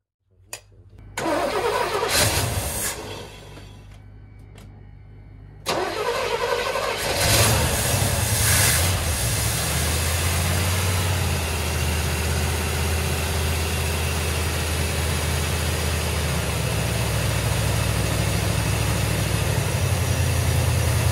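A 1981 Chevrolet Corvette Turbo, left sitting for 30 years, cranks over in short bursts, falters, then catches and settles into a steady, loud, rough idle that runs on to the end.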